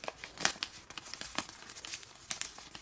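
Paper being valley folded for an origami cross bookmark, a run of soft, close crinkles and crisp creasing taps in irregular bursts, with no voices.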